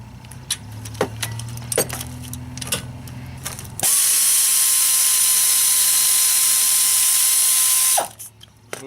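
Ratchet clicking rapidly while backing out a brake caliper guide bolt on a BMW X3 E83 during a pad and rotor job, a dense steady whirring burst after a few isolated metallic clicks and taps, close and loud.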